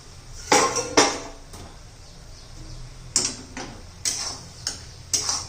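A metal lid comes off a cooking pot of softening tomatoes for a spinach chickpea curry, heard as a few close metallic clinks and knocks spread over the quiet moments with no talk.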